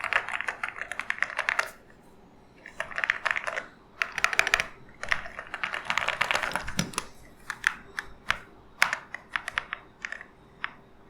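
Typing on a glass-bodied mechanical RGB keyboard: close, crisp clacking keystrokes in fast bursts and pauses, with scattered single key presses toward the end and no voices.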